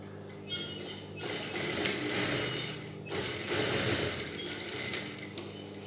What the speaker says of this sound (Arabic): غادي نسدها بكوتور